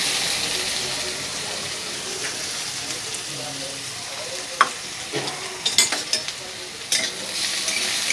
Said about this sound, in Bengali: এগুলো একটু ভেজে নিচ্ছি খুব একটা লাল করব না একটু ভেজে নিচ্ছি